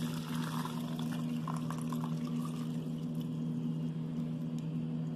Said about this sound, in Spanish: vamos a depositar nuestra agua tibia